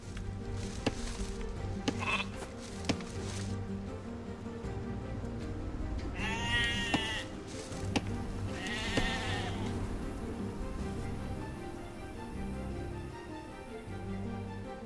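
Sheep bleat twice over a busy Age of Empires II game soundscape, a strata of ambient background tones and small clicks, with two clear, wavering bleats in the middle standing out at moderate volume.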